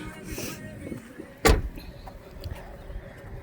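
Third-row seat of a 2015 Dodge Journey all-wheel-drive folding down, a single sharp thump and latch clack at close range, with faint cabin rustle before and after.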